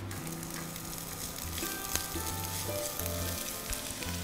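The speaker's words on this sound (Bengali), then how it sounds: "এখন আমি দিচ্ছি পেঁয়াজগুলো" Onions sizzle as they go into hot oil in a frying pan while cooking hakka noodles, a steady close crackling fry with a few stirring clacks and a low hum underneath, no speech.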